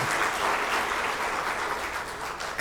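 Audience at a talk on birds breaks into loud sustained applause, dense clapping that holds steady and only slightly fades over a couple of seconds.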